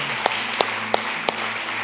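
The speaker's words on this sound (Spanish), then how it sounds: "Un aplauso para ellos" A few sparse, evenly spaced claps ring out at a church service, four distinct hand claps against a quiet background, fairly faint and brief.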